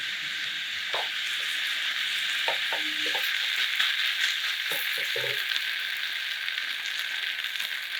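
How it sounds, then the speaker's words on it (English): Meat frying in a pot with doenjang and gochujang for Korean soybean paste stew gives a steady, close sizzle throughout, with a few soft stirring knocks and scrapes. "frying meat, gochujang, doenjang first"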